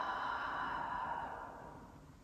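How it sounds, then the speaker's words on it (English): A single long cleansing exhale through the mouth during a yoga breathing practice, a soft airy breath close to the listener that slowly fades. "exhaling through the mouth"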